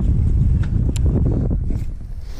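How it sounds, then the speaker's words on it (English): Strong wind rumbles and buffets against the microphone in a constant low roar, with a few faint knocks and rustles. "Too windy for this, but I thought I'd give it a shot anyway."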